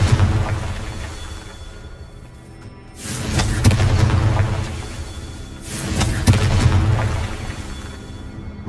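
Blasting Confringo spell explosions in Hogwarts Legacy, two loud booming bursts a few seconds apart, each with a rumbling tail, over a steady low game soundscape.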